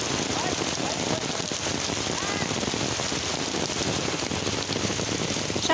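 Steady rain pours over a waterlogged football ground in Kolkata where a match was called off. The hiss of drops on water and wet surfaces runs continuous and moderately soft throughout.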